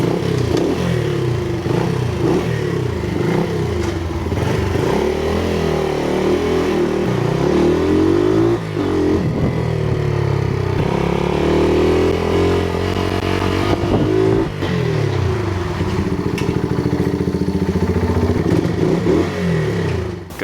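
A Honda XR75 motorcycle engine runs steadily after being kick-started, a close, loud, continuous single-cylinder putter with slight rises and dips in revs for the full stretch, with no talking.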